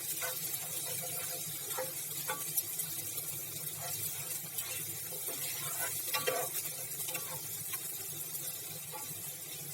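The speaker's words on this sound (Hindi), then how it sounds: "खुशबू आने लगी है लहसुन की और हल्का हल्का आप देखिए गोल्डन ब्राउन सा होने लग गया है।" Garlic fries in a pan and turns golden, giving a soft, steady sizzle with scattered crackles and the scrape of stirring throughout, faint and close with no talking.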